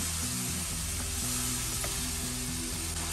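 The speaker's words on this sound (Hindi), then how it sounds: "चिकन और टमाटर हमारा पक रहा है" Chicken and tomatoes sizzle loudly in a masala in a pan, a dense, steady crackling frying hiss with soft stirring scrapes, close and continuous.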